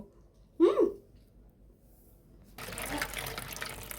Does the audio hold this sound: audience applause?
no